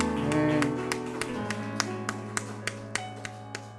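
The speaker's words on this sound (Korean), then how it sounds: "하나님 앞에 영광의 박수 올려드립시다." Rhythmic clapping from a congregation at a Sunday morning worship service in a church for disabled and non-disabled members, sharp evenly spaced claps ringing over sustained organ or keyboard chords.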